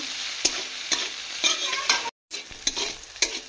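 Bitter gourd pieces sizzling in hot oil for shukto, a close crackle punctuated by repeated spatula taps and stirring scrapes, with a brief cut to silence partway, no voices.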